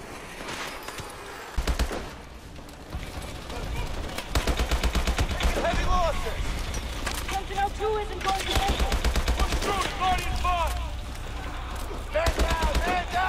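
Rapid automatic gunfire from Call of Duty: Advanced Warfare crackles in long, loud bursts with scattered single shots, mixed with battle effects and brief radio-style voices.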